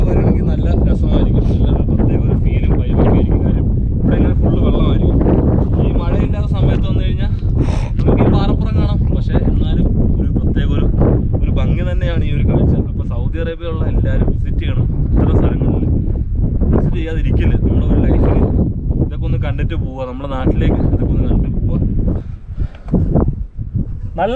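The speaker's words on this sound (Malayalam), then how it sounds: "കാറ്റുണ്ട് കേട്ടോ" Strong wind buffets the microphone in a continuous loud roar during a road trip between Jubail and Taif, with voices partly audible beneath the gusts.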